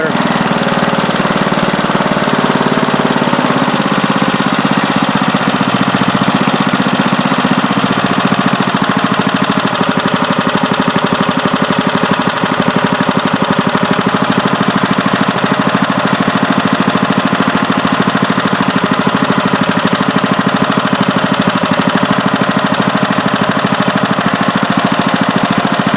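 A 1985 Briggs & Stratton 3 HP small engine idles up close: a loud, continuous, rattly buzz that holds steady throughout, with no talk.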